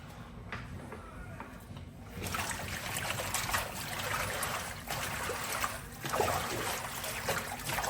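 Water sloshing and trickling as spinach leaves are swished around in salted water in a basin, close by, with louder splashes in bursts after a quieter start.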